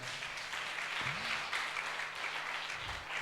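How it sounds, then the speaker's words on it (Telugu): Clapping from a church congregation at an Easter service fills the room, a steady dense patter of many hands that keeps going the whole time, with a brief low voice-like tone near the start. "చప్పట్లు కొట్టి దేవుని మహిమపరుద్దాం"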